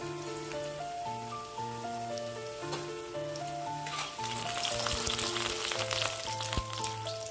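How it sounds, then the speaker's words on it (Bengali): Potatoes fry in a pan with a steady, close crackling sizzle that grows busier midway, under continuous background music. "এরপর আমি আলুগুলোকে খুব ভালোভাবে ভেজে নেব"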